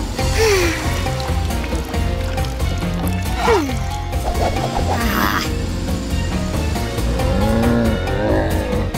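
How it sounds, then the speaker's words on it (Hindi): A cartoon car drives along with engine noise and several short tire squeals, loud and busy alongside playful sound effects. "ये ओलिवर की गाड़ी।"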